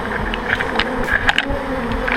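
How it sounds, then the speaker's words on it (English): A swarm of honey bees buzzes loudly and close by, a dense continuous drone with individual bees whining past. "when bees swarm, they're too full on honey to sting, and they're not super aggressive."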